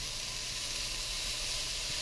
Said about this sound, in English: So you can see the broccoli, some of it is starting to sear and brown.